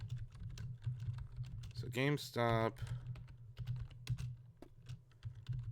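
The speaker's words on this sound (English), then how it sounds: "Sorry to the folks at home who are hearing me type on my keyboard" Fast, light typing on a computer keyboard close to the microphone, a continuous patter of clicks running throughout, with a voice briefly speaking over it partway through.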